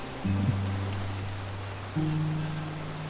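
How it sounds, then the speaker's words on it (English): Steady video game rain hisses across the whole clip, broad and even, with a low droning hum that shifts pitch partway through. "Of course it's raining."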